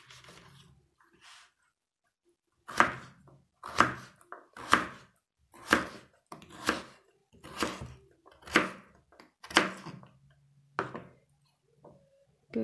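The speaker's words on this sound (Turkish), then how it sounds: "küp doğrayacağım." A knife chops a potato into cubes on a cutting board, about nine crisp, evenly spaced strikes in a steady rhythm after a short quiet start, close and fairly loud.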